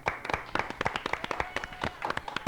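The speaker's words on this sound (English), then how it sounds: "Let's give them a round of applause, huh?" A small studio audience gives scattered, distinct hand claps for the Milliken team at an academic quiz competition, individual claps audible within the brief round.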